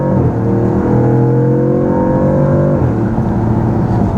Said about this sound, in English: we'll give you a little bit of an option or opportunity to hear the exhaust